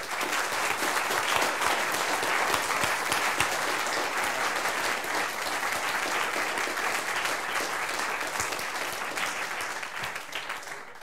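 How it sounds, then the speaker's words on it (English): Sustained audience applause after a welcome talk, dense and steady clapping from a crowd filling the full stretch at a constant loud level before tapering slightly at the end. "But I will also like to give a big applause to Anto"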